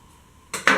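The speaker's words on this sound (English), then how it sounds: "I'm just going to cut that even to my lining piece" Scissors cut a fabric lining piece for paperbag pants with two quick, crisp snips in close succession, close to the listener.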